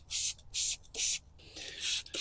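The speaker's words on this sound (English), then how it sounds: "we're going to spray the wheel down with P&S Brake Buster" Brake cleaner is sprayed onto a car wheel before a wash in several short hissing bursts, close and fairly quiet, with brief pauses between them.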